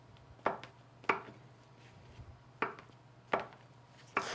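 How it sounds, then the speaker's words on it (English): A knife chopping canned biscuit dough into small pieces on a cutting surface, five sharp separate taps at uneven intervals over a faint steady hum, with no talking. "So cut them until they're small little bits."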